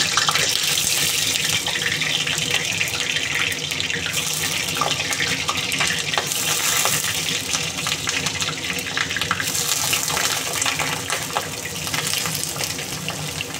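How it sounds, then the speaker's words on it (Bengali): Ridge gourd pieces fry in hot oil in a heated kadai, giving a loud, steady, close sizzle that holds unbroken from start to finish with no talking. "তেল গরম হয়ে গেছে, এবার আমি ঝিঙেগুলো এক এক করে দিয়ে দেবো"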